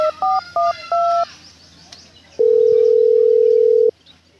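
Four quick keypad beeps of a phone being dialed, then a pause and one long, loud steady call tone lasting about a second and a half before it cuts off.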